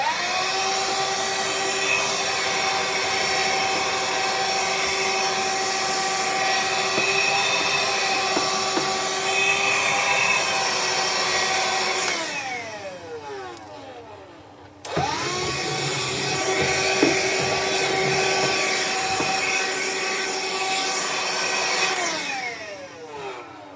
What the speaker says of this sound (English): I want to vacuum this out real quick.